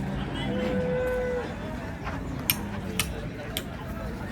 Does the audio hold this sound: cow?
yes